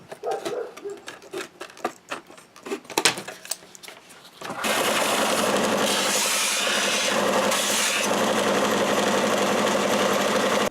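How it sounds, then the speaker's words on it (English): A belt sander grinds the trimmed edge of a craft piece for a Voight-Kampff machine replica, starting after some scattered handling knocks and then running as a loud, steady broadband whir that holds close to the end. "then I'm going to finish the sand on my belt sander"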